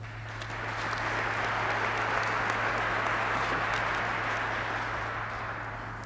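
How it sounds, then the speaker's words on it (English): Audience applauding at the dedication of the Breslow Ice Hockey Center, a dense, steady wash of many hands clapping that swells in and holds for several seconds with a low hum underneath. "I hear that strong clapping back there"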